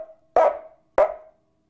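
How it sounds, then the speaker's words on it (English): Dog barking nervously in the distance as a sound effect, two short sharp barks about half a second apart over a faint steady hum, with no talk. "a dog nervously barks in the distance"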